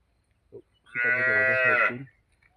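A single cow moos once, a clear, drawn-out low call lasting about a second, close by and otherwise quiet.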